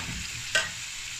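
Ground turmeric, chili, cumin and coriander masala fries in a pan under a steady hiss, with a single quick scrape of a spoon stirring it midway.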